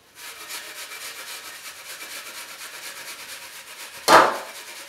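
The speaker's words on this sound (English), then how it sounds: "when I grate my apple" An apple scraped against a hand grater in a kitchen, a steady low rubbing rasp running throughout, ending in one louder, sharper scrape near the close.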